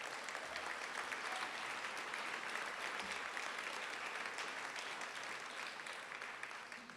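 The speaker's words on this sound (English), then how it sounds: "That's an applause line." Steady, dense applause from a sizable audience at a college reunion keynote fills the whole stretch, a continuous wash of clapping at even loudness with no talking over it.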